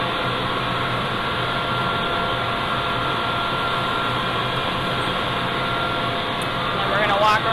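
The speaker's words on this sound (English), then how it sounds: "Here you will notice that they get put onto spools to go through the machine." A hen farm's egg processing machine with conveyor belts runs as a steady, dense mechanical drone, loud and unbroken, with faint rattling and a brief clatter near the end.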